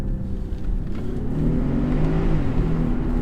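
A 2018 BMW 540i xDrive Touring pulls away from first gear, its engine and exhaust rising in a steady, building drone with a low rumble throughout, heard from inside the cabin with no talking.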